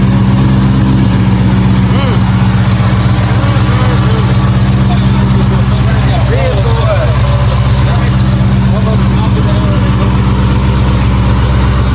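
A 1000-horsepower Mustang GT500 engine idles with a deep, steady rumble, loud and close, with faint voices and background chatter mixed in.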